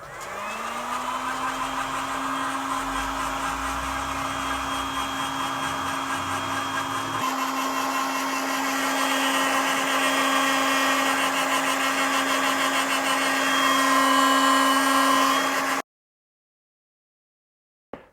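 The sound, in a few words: heat gun blowing on car window tint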